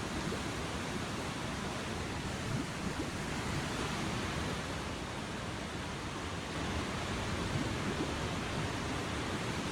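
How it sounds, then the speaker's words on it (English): A video game waterfall rushes as a steady, dense roar of falling water, loud and unbroken from start to finish with no voices. "Once again, through a waterfall."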